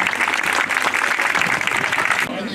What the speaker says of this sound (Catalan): Però igualment li dediquem aquest aplaudiment tan i tan fort.